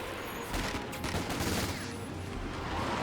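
Rapid distant bursts of Vickers machine-gun fire crackle under a dense wash of battle noise in Company of Heroes 2, faint and continuous for a few seconds with no talking.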